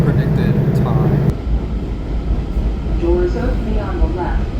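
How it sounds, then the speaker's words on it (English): A DC Metro Silver Line train bound for Ashburn pulling into a station, a loud rumbling roar with a brief tonal whine early on, fading to station ambience and a squeal as it stops, someone talking at points. "my Silver Line train to Ashburn finally pulled in"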